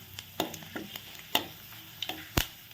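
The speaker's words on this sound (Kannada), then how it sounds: "ನಂತರ ಮೆಣಸು ಸ್ವಲ್ಪ ಫ್ರೈ ಮಾಡುವ." Pepper frying in a pan with ginger for Kerala-style moru curry, a light sizzle punctuated by sharp clinks and scrapes of a spatula, close, no speech.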